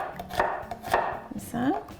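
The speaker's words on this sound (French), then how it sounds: "je vais hacher finement l'ail." Knife strikes on a cutting board while garlic is finely chopped, a few close, fairly loud taps spaced irregularly over a couple of seconds, with a faint voice-like sound near the end.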